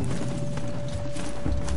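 Steady mechanical clopping footsteps with a whirring, geared undertone as a video game robot horse walks at an easy pace through woods, with no talking.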